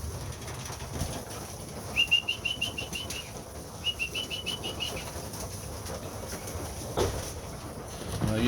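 Young pigeons flap their wings in short fluttering bursts inside a loft trap, with a couple of brief whistling wingbeat runs over a faint, quiet background.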